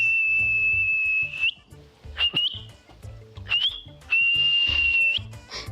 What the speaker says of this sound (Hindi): नहीं सीटी बजाना तू